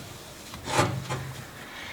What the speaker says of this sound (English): We're going to wipe everything down here on the outside.